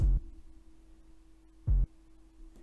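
Two deep, booming 808 bass kicks made in LMMS without an envelope, each a short thud spaced well apart over a low steady hum, with the start of a third at the end.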